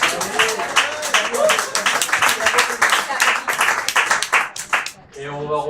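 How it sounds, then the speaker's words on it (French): Church audience at a Tuesday evening Bible class clapping for Thierry, a dense burst of close handclaps lasting about five seconds before fading, with voices mixed in throughout. "Et on peut l'applaudir."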